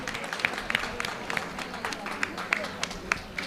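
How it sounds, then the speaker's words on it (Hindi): An audience claps for a doctor, Acharya Manish, at a spiritual discourse gathering: a light, steady patter of hand claps throughout, moderately distant, with a faint voice underneath. "एक बार डॉक्टर साहब के लिए सुंदर तालियां आचार्य मनीष जी के लिए"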